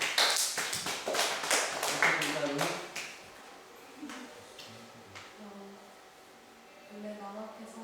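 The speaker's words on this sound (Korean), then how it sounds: "박수." Students at a middle school debate contest give a short round of close, sharp claps that fade within a few seconds, followed by quieter voices talking.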